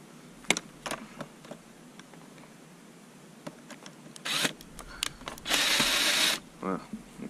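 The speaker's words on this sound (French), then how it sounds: "on peut visser cette partie-là" Honda CB650R motorcycle licence plate bracket part being fastened, with scattered clicks and taps of tool handling, then short bursts of a power screwdriver whirring close by, near the end a longer one.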